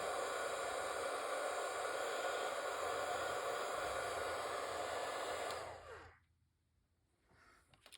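Heat embossing tool blowing hot air, a steady loud hiss and whirr that runs for about six seconds, then winds down and cuts off, leaving near silence.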